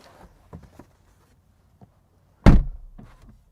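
Faint clicks and handling noises lead up to a BMW i4 car door being closed from inside. It lands as one heavy, muffled thunk with a short rumbling decay, followed by a few soft taps.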